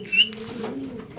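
A Spanish pouter Gadino pigeon pair coos nearby, a low steady murmuring call running through the moment with a brief higher chirp near the start.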